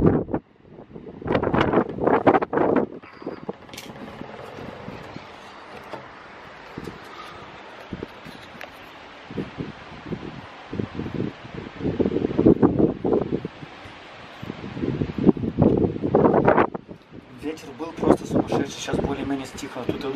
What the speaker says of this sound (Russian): сумасшедший ветер.